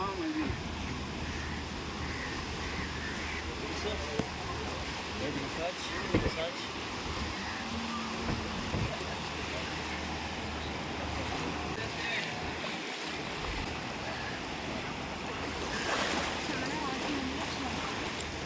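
Sea waves wash onto a beach in Goa, a steady, broad rushing surf that rolls on for the whole stretch with faint wind and a few brief louder swells.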